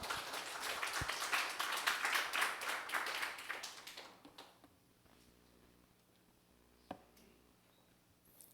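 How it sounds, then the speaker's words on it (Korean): A church congregation at a Sunday worship service claps vigorously for the pastor, a dense wash of many hands lasting about four seconds before fading to a quiet room with one faint knock. "힘차게 박수 한번 하겠습니다."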